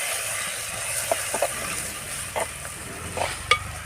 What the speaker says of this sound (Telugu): కసింత పసుపు తగినంత అల్లం చక్కగా కలుపుకోవాలి